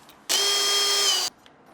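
A power tool such as a drill whirs steadily for about one second, loud and close, while removing screws from the lower side panels of a Yamaha R1 motorcycle before a carbon fiber belly pan install.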